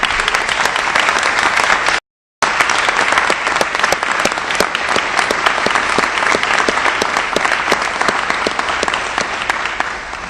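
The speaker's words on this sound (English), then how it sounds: "stand up and let's give you applause for what you've done for our country as well" A ceremony crowd at a 9/11 remembrance applauds military members in a sustained, loud round of clapping with sharp individual claps standing out, broken once by a brief dropout before continuing evenly to the end.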